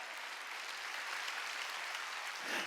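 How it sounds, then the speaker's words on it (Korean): A church congregation claps together during a Korean Wednesday worship service, a steady, dense wash of applause that stays fairly faint and distant, with no talking over it. "박수 치라 이거야."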